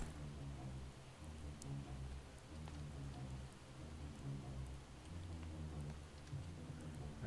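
Steady rain in Project Zomboid falls as a constant hiss on surfaces, with a few scattered drop ticks and low rumbling ambience throughout, no voices.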